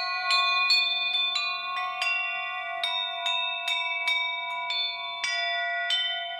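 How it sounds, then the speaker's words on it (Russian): Church bells in a Golden Ring town in Russia ring out a clear melody, with struck tones sounding one after another in an uneven rhythm and a long ringing decay. "Послушать мелодию колоколов"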